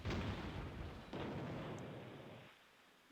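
Heavy battleship guns fire in the Battleship Chess naval video game, a loud deep booming blast with a rolling roar that decays over a few seconds before a sharp pop at the end.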